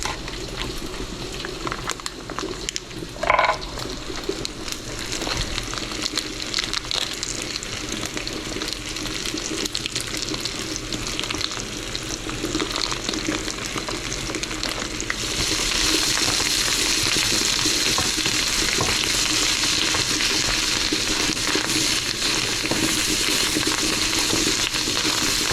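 Andouille sausage frying in a pot, a continuous dense crackling sizzle that grows louder and fuller partway through, with a single brief clunk early on and no speech.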